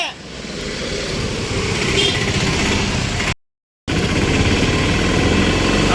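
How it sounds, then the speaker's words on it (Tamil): A vehicle's engine drones steadily nearby as it arrives at a wedding venue, with people talking over it and a brief cut to silence midway. "நம்ம அண்ணனோட வண்டி வருது."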